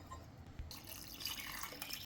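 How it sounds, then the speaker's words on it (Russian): Clean cold water pours into a pot holding chicken breast, onion and carrot, a faint steady splashing rush that starts after a short quiet moment. "Заливаем чистой холодной водой."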